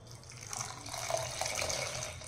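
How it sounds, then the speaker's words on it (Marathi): Hot water poured from a vessel into a pan of masala fried in oil for homemade misal, a soft, continuous pouring and bubbling sound heard close and fairly quiet. "जे इथे मी 1 तांब्या भरून गरम पाणी केलेलं होतं ते इथे टाकून घेऊया"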